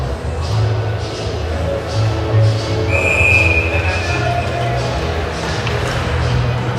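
Referee's whistle at an under-16 ice hockey game, a single short, shrill blast rising over the steady rink hum, with arena noise and background voices throughout.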